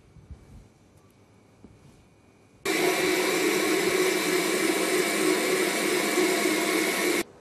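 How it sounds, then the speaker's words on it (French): A blender whirs on loudly and steadily, puréeing pineapple, cucumber and coriander into gazpacho after a quiet start, running continuously to the end. "Et ensuite, mixer le tout pour obtenir un gazpacho onctueux et savoureux."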